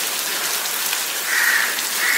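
Rain pours steadily on a film set, a dense, loud hiss of falling water that swells slightly toward the end.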